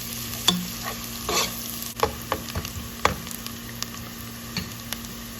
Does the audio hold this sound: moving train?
no